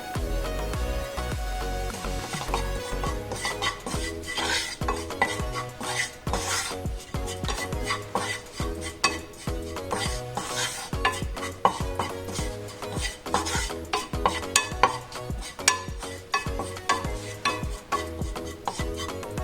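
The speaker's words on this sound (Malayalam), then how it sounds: "ഇനി നമുക്ക് ഇതിനകത്തേക്ക് വെളുത്തുള്ളി ഇഞ്ചി പേസ്റ്റ് ഇട്ട് കൊടുക്കാം കുറച്ച് കറിവേപ്പിലയും കൂടെ ചേർത്ത് കൊടുക്കാം" Garlic-ginger paste and curry leaves frying in hot oil for chicken roast, a busy sizzle with repeated scraping and clanking of a spoon stirring against the pan, close and fairly loud throughout.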